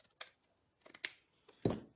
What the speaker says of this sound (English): All right, so let's just cut.